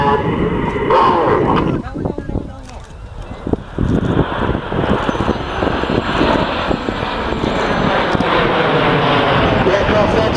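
A diamond formation of seven jet aircraft passing about 2,500 feet overhead at 400 mph, heard as a broad, steady roar mixed with gusting wind noise on the microphone.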